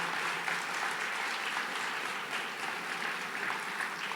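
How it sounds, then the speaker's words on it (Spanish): Steady applause from a church congregation, a dense even wash of clapping hands that holds at one level with no voices over it. "me das un fuerte aplauso al Señor"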